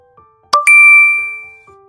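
A bright message notification chime: a soft lead-in tone, then a sharp two-note ding that rings out and slowly fades, loud and close, with no talking.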